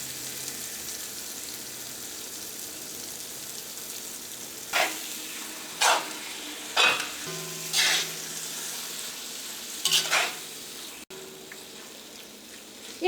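Beef with ground garam masala sizzling in a pan for spicy beef curry, a steady hiss throughout broken by about six louder scraping stirs spaced a second or so apart.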